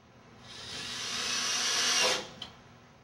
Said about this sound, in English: we'll fasten them to the backing sheet with wood screws